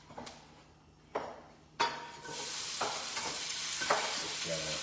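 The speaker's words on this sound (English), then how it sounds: "Fajita sizzle." Chicken fajitas with onions and peppers sizzle loudly in a hot pan. Sharp clatters of stirring come first, then a steady hissing sizzle settles in close up.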